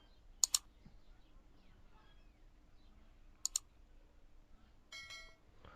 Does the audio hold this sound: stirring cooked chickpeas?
no